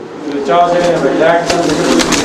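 A pair of fancy pigeons, a male and a female, coo close by in soft repeated low calls while someone talks over them.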